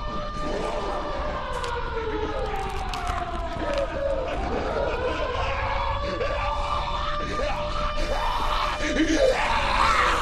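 A character in the video game Dead Island yells loudly and at length, with a wailing, siren-like alarm tone running under the shouting for the full ten seconds.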